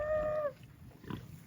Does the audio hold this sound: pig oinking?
yes